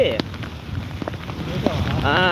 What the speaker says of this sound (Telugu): ఫుల్ వర్షం పడుతుందన్నా